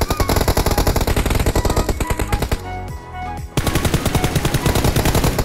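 Rapid automatic gunfire rattles in dense bursts during a church assault in the mobile shooter Peace Elite, loud and close, with a brief lull near the middle before the firing resumes.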